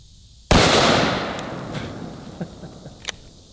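A T-Rex pistol fires one very loud, close shot that blasts a 2-liter bottle, followed by a long, fading splash and rattle of debris and a few faint knocks.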